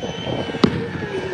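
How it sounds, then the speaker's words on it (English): New Year's fireworks over Coney Island in Brooklyn, heard as a single sharp bang about midway through, standing out above a steady background hum of the crowd and city, with no talk. "Big fireworks out there in Bath Beach and Bensonhurst."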